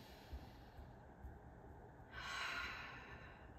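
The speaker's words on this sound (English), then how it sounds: "We're gonna do that again, breathing in." A single deep breath during a calming chair yoga session, drawn in softly and then released as a louder, airy exhale near the end, close and gentle with no talking.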